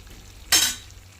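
A short, loud burst of sizzling as chicken fries in a pan over a slow flame, rising abruptly, then fading into a faint background hiss with no talking.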